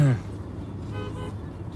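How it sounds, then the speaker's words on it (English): A car horn gives a short toot at the very start, then steady traffic and road noise continue for the rest of the moment. "What are people beeping at me for?"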